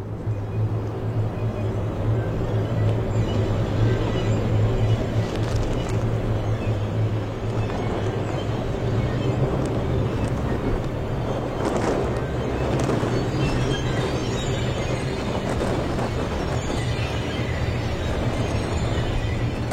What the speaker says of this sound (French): Et soudain la tempête forcit et nous assaille.